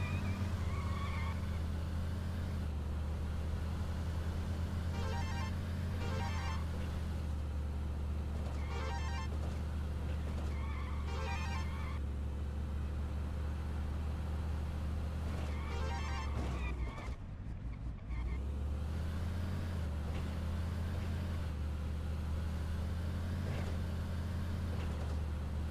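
A Ford Fastback in the Midtown Madness 2 racing game, its engine holding a steady low drone with shifting whines and brief tire noises, lined up among other cars for a city street race.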